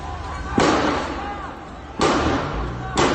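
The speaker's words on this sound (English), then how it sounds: "We hear gunfire through the streets as some of the rebels are now running away from the fire." Gunfire in city streets during clashes between armed forces and rebels: three loud, sharp broadband bangs spaced about a second and a half apart, each trailing into echo and crowd noise, with voices in the background.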